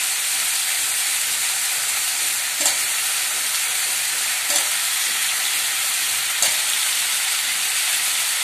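Meat and fried potatoes are stir-fried in a pan, a loud, dense, continuous sizzling hiss broken by three faint stirring knocks, with no voices.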